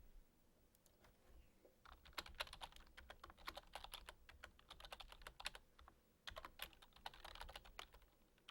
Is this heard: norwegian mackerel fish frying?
no